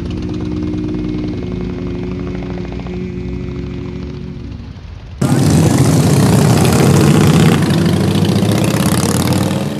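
A large group of motorcycles on a group ride: a steady idling engine drone gives way midway to a loud, dense roar as the bikes pull away together, close and continuous.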